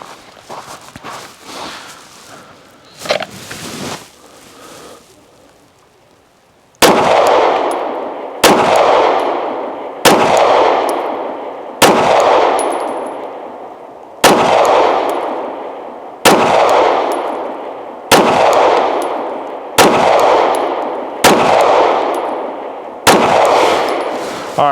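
Pistol shots are fired at 5 to 7 yards by a shooter in unlined Gore-Tex gloves in winter weather. Eleven loud, sharp reports come at a steady spaced rhythm, each with a decaying tail, after a few seconds of quieter shuffling and handling.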